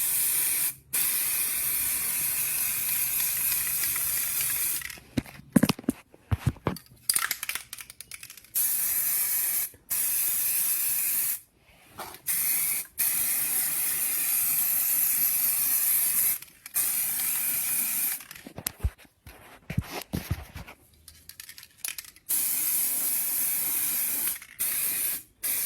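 An aerosol can of spray primer hisses in long continuous bursts, broken by several short pauses and brief gaps, fairly close and steady with no talking.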